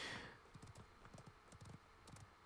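Horse hooves clip-clopping in the video game Realm Royale, a quick, steady run of light hoof beats that stays soft and in the background, following a brief louder rush of noise at the very start.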